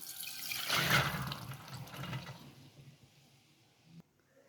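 Water runs and splashes briefly over soaked chana dal being rinsed, swells, then trickles away as it drains, ending with a small knock; no talking.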